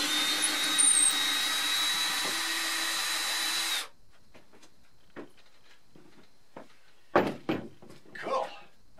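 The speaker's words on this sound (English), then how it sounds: "The old NICAD drill, 18 volts, but it's got torque." Old 18-volt NiCad cordless drill runs with a steady high motor whine for about four seconds, then cuts off abruptly, followed by scattered light clicks, handling knocks and brief voices.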